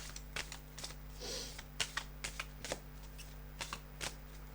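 Tarot cards are shuffled and handled close up, giving a run of crisp riffling bursts and light snaps over a steady low hum, with no talking.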